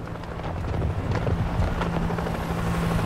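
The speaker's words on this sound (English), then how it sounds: "Helicopter! It's headed over the river." Helicopter flying in the World War Z video game's New York City level, a steady loud rotor drone with low thumping and wind-like rush throughout.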